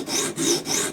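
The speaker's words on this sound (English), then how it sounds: "Went back to the 80 grit stone." OTF knife blade stroked across an 80 grit sharpening stone, three close, rhythmic abrasive rasping passes in about a second.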